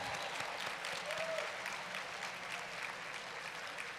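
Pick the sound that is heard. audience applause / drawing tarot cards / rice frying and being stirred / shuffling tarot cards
audience applause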